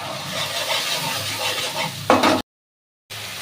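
Chillies sizzling in hot oil in a pan, a close, steady frying hiss with a brief louder burst of stirring near the end before the sound cuts out.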